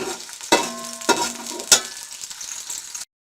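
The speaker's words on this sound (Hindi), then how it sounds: "प्याज को ब्राउन होने दें।" Onions browning in ghee in a pan, with a continuous sizzle broken by three sharp stirring clatters, close and fairly loud, with no voices.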